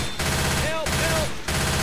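Sustained automatic gunfire in a video game, loud and continuous over under two seconds, with brief gaps and faint tonal game effects mixed in.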